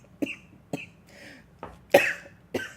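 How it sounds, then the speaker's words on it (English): A woman coughs in a quiet room, a series of short, dry coughs spaced irregularly, some sharper and harsher than others, with a little throat clearing between them. "I told you I have a cough"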